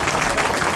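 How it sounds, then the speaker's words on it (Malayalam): A brief burst of audience clapping at a stage quiz show, a dense, even patter of many hands heard alone for under a second. "നിറഞ്ഞ കയ്യടി പ്ലീസ്."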